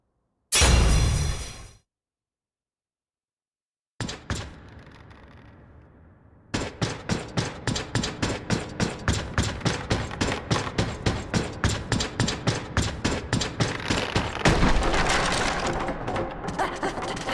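Weapon smashing a barrier in the PC game Overlord: Fellowship of Evil, a short burst followed after a pause by a rapid run of repeated sharp cracking hits that grows denser and louder toward the end.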